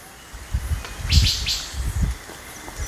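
Forest birds chirp in a short burst of bright calls, with a few scattered tweets over soft wind and rustling in the trees.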